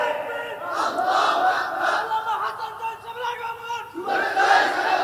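A crowd at an Islamic religious sermon chants the takbir louder in unison, a dense roar of many voices that dips briefly and then surges back strongly.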